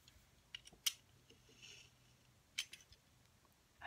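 Faint, close snips of scissors cutting paper printables, two crisp cuts about two seconds apart with softer paper rustling between, quiet and without talk.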